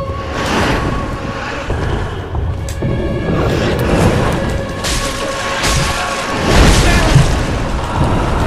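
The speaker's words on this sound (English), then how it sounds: "Okay, fire in the hand. Big explosion." Loud, sustained booming roar of a big fire explosion attack in Dark Souls III, with rumbling surges and whooshing bursts layered over game sounds throughout, swelling again near the end.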